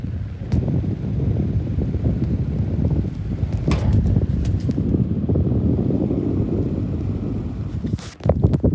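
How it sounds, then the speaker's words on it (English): An electric desk fan runs steadily close by at a high speed setting, giving a continuous broad airy whoosh with a low motor rumble, and a brief dip and bump near the end. "also a good thing about this fan as well is it's got a musical motor startup sound, and it's quite powerful"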